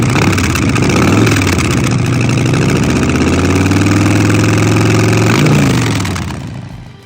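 A Harley-Davidson Milwaukee-Eight engine in a bobber motorcycle starts and settles into a loud, deep idle close by. The pitch climbs briefly at first, holds steady, then shifts near the end.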